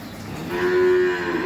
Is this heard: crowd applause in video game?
no